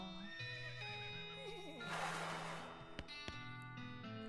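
A horse in the video game West of Loathing lets out a wavering, musical whinny over a looping game soundtrack, followed by a few short clip-clop knocks.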